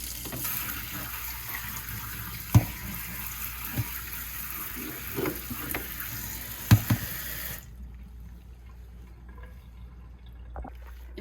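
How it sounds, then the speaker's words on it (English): Cold tap water runs over salted cucumbers being rinsed in a kitchen sink, a steady close splashing gush with a few knocks, stopping abruptly partway through and leaving near silence. "We're going to rinse them off with cold water."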